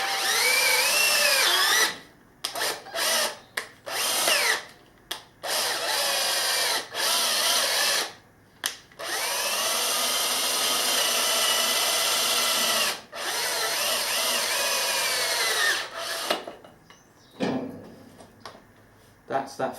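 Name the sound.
drilling out a damaged thread to tapping size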